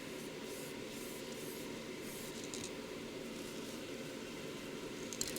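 An aerosol spray paint can sprays onto a bottle, giving a faint, continuous airy hiss that holds steady for several seconds without any voices.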